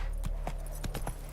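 Horse hooves in The Witcher 3 video game beat out a steady galloping rhythm of four or five clear thuds over a constant low rumble of background game sound.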